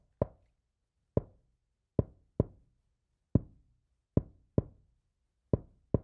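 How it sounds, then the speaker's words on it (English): A kick drum run through an SPL Transient Designer, heard as nine sharp, dry knocks at uneven intervals, each with a short decaying tail, loud and isolated. "I call it the table knock on the kick"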